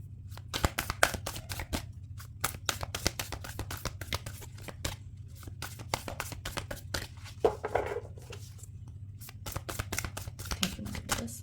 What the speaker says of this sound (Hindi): let's start with the shuffling of the cards